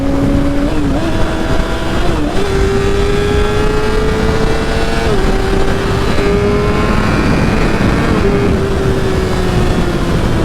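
A Yamaha R6 sport motorcycle cruising at about 40 mph, its engine droning loud and steady with slight pitch shifts through small throttle changes, heavy wind rush underneath, heard from the rider's position.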